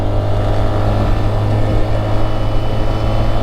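A BMW motorcycle engine runs steadily in neutral, a constant close-up mechanical drone with a strong low hum and no rise or fall over the short span.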